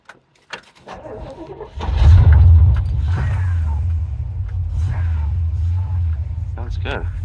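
A 1956 Chevy 210 with a 327 V8 and mild cam cranks briefly, catches and settles into a loud, steady, lumpy idle that rumbles close by outdoors in wind, while people talk over it.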